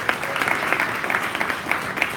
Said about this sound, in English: Great, big round of applause for healthcare.